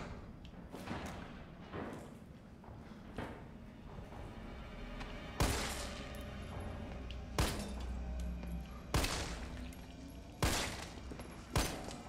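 Repeated gunshots fired at a horde of zombies in Resident Evil 3, sharp loud blasts at irregular intervals over a rumbling game background, no talk.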